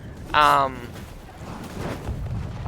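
Fire arrows in a large-scale medieval battle video game give off a brief, loud whistling burst with a bright, tonal edge, then fade into a low, rumbling backdrop of distant battle noise.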